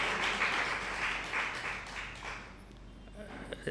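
An audience seated at a neighbourhood association talk gives a round of hand-clapping. It starts dense and fairly loud, then thins out and fades over the last second, leaving a few scattered sounds.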